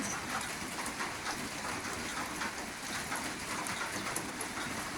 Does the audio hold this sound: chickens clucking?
no